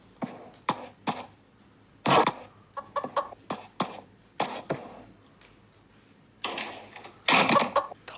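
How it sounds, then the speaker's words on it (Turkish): Short bursts of chicken clucking and squawks, irregular and spaced apart, fairly close against a quiet background. "Bu tavuk ya Mr. C ya da Roastel"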